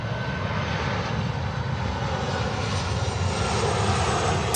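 A Lufthansa Boeing 747-8 on short final gives a loud, steady roar of jet engines that holds throughout with no pauses or talking.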